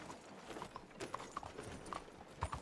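Horse hooves clip-clop in a steady galloping rhythm in the video game Red Dead Redemption 2, moderately close and fairly quiet, with no talk over them.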